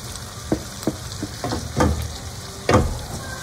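Thinly sliced green chillies frying in a pan for mirchi ka salan, a soft sizzle broken by several short stir-scrapes and bursts, close and moderately loud, with no talking.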